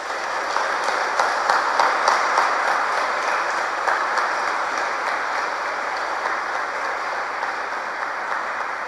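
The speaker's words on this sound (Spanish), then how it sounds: "Les damos un fuerte aplauso." A congregation at a Mass for the feast of the Virgen del Pilar applauds in a steady, sustained wash of clapping that continues at an even level, with no voices heard.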